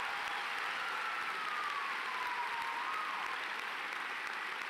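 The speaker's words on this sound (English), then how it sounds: "Give them a round of applause." At a high school graduation ceremony, an audience gives a sustained round of applause. A dense, steady wash of clapping from many hands fills the hall without a break, with faint crowd murmur and no clear talk.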